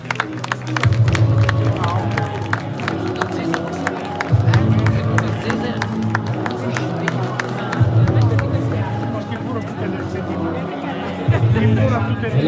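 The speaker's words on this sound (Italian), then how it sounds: "Viene accolta dall'applauso dei presenti Marianna Mantovani." Applause and crowd noise fill a regional amateur boxing event in Veneto as a boxer is welcomed, a dense, steady wash of clapping and chatter with a loud, pulsing low thump repeating underneath.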